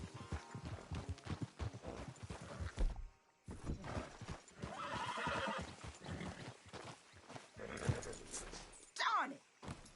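Horse hooves clip-clop in Red Dead Redemption 2 as the horse acts up after a race, with whinnies and neighs mixed in, a voice talking over much of it, and a brief thunk partway through.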